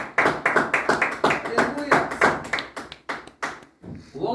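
Church congregation clapping hands in praise for Jesus, a run of loud, fairly rhythmic claps that thin out near the end, with a voice calling out over them.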